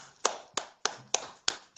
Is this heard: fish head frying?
no